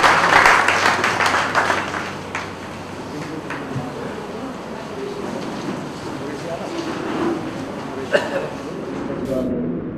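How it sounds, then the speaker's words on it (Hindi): An audience at a literary event claps in a dense burst of applause that peaks early, then thins into scattered clapping under talk, with a sharp knock near the end. "उतनी ही अच्छी तालियां होनी चाहिए आपकी"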